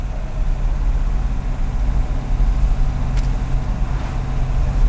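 A 1963 Corvette split-window engine with solid lifters idling steadily with a low rumble and a faint ticking texture, constant and close, with no voices.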